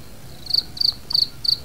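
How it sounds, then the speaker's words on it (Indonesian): A cricket chirps in four evenly spaced, high trilled bursts over a quiet background, each burst short and clear at close range. "Salah satunya ini jangkrik."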